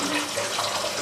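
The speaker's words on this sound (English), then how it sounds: "during these 15 minutes let's open the faucet" Water runs in a steady, loud hiss from the faucet of a Lurun reverse-osmosis water purifier while the system flushes, with no voices.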